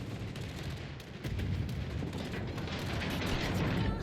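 The secondary battery guns of the Italian battleship Vittorio Veneto fire in the naval game World of Warships Legends: a dense, continuous barrage of overlapping booming shots rumbling without pause and growing slightly louder partway through.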